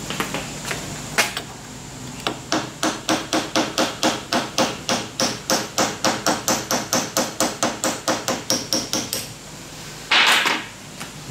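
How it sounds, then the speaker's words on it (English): Hammer tapping on a part for a DIY steampunk clock, a long even run of about thirty sharp, close metallic knocks at a steady brisk pace, ending with a brief scraping rattle. "Wait till I get a hammer."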